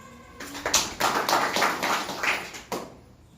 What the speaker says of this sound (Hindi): ताली बजाया